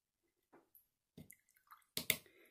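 Water tapped with a brush onto wet paint for a salt, water and paint abstract, giving a few soft, close drips and splats in short bursts, the last pair louder, with quiet gaps between and no talk.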